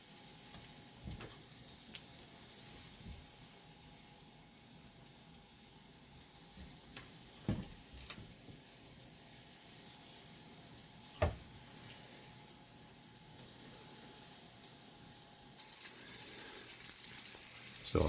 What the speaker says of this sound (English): You can hear it sizzling away there.